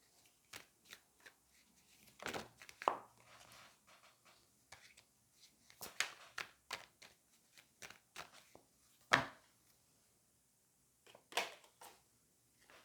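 A tarot card is drawn from the deck, with soft, close riffling and sliding of cards in short separate bursts and quiet pauses between them, with no one speaking.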